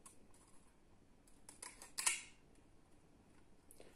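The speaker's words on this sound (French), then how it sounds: "Vous allez découper des languettes et vous allez jusqu'au bout du pot." Scissors snipping into a plastic pot to cut strips, a few faint crisp clicks and cuts, one sharper snip near the middle, quiet and close.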